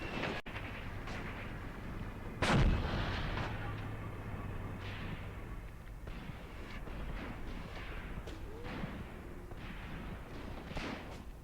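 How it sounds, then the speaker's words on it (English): Mortar fire in the Graviteam Tactics video game, a heavy boom landing early and followed by more scattered, fainter thuds and cracks over a continuous rumbling battlefield background. "Oh shit, there's mortars."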